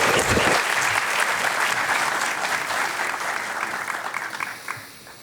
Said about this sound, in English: One more round of applause for Jonathan, please.